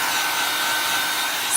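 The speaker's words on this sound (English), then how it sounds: "I'm using my heavy-duty dryer because my other dryer is" A heavy-duty hair dryer blows steadily at close range over a chalk paste design on a hexagon board, a continuous loud whooshing roar with no pauses.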